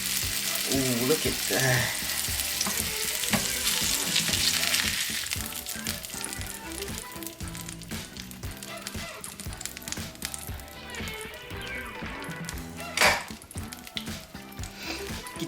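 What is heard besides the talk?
salmon fillets searing in a pan after flipping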